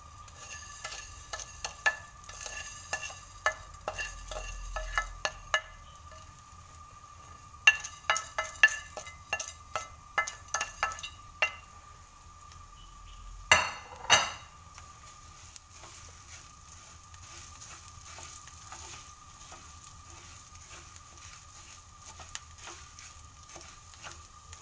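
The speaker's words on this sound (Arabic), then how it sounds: "وغادي ندير الرز باش يتحمر" Half a kilo of rice being fried and stirred in a pan, with quick scraping and clicking stir strokes in bursts over a soft sizzle, then a quieter, steady frying hiss.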